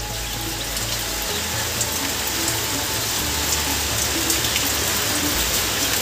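Steady rain with wind pattering on a surface, a dense continuous hiss of drops with a low hum underneath, no voices.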